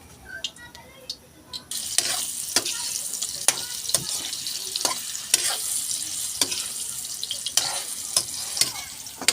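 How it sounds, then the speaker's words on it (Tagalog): Banana Q, bananas in a small amount of cooking oil, sizzles and fries in a pan while a utensil stirs them, with repeated scraping clicks over a steady crackle and no talking. "haluin ko muna sa mantika para maluto yung saging"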